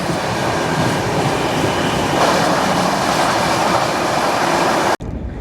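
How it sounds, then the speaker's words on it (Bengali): Howrah–Bengaluru SF Express 12863 running fast through dense fog, a loud continuous rush of wheels and rail noise filling the whole stretch, cutting off abruptly near the end. "এই হচ্ছে ট্রেন"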